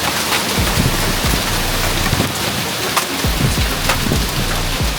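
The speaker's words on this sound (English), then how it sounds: "And this thunderstorm is crazy." Heavy rain pours steadily through a thunderstorm with hail falling, a dense continuous wash of drops with a few sharper cracks and low rumbles mixed in, loud and close throughout with no talking.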